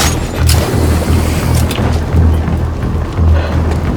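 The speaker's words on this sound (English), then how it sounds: "another bomb" Bomb blasts in Batman: Arkham Knight's Batgirl story pack, a loud, sustained rumbling roar with deep repeated booms and crackling debris and no talk over it.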